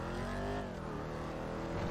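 Declasse Vigero ZX muscle car in GTA 5 with its engine revving steadily, a continuous loud drone with shifting pitch and no talk over it.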